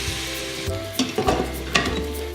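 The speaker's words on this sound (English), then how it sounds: "I'm going to take it out and sear the second pound" Beef searing in a pan for Tuscan peposo stew, a loud continuous sizzle with crackling spits and the scrape of stirring, with a low hum underneath.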